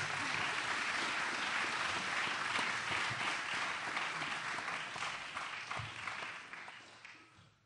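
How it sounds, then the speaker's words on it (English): A conference audience applauds the speakers of a farmer panel on sustainable nitrogen cycling, the dense clapping steady for several seconds before fading out toward the end. "I'd like everybody to give them a round of applause."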